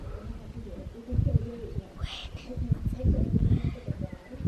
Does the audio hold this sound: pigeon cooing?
yes